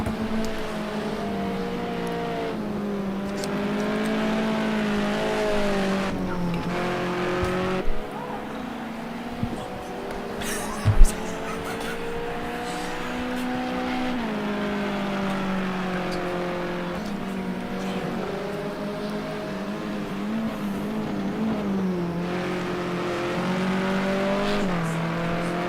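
Race cars run laps at Indianapolis during a 2024 round, their engines droning and rising and falling steadily throughout at a distance, with brief sharp knocks partway through and faint voices.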